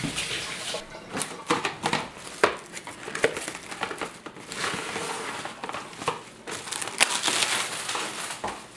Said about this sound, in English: it's really tough to handle cellophane foil with oily hands